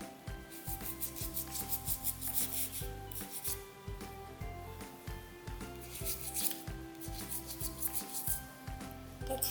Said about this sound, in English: Gotta keep scrubbing. You can't stop of it.